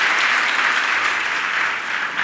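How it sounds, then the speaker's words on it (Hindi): An audience at a religious question-and-answer gathering bursts into loud, sustained applause, a dense wash of clapping that holds steady throughout with no speech over it. "एक बार जोरदार तालियों से।"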